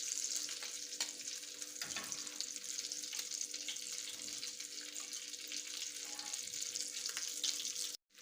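Potato tikki cutlets without breadcrumbs or egg, coated in rice flour, sizzling steadily in hot oil, a bright continuous crackle with occasional spatters that cuts off abruptly near the end.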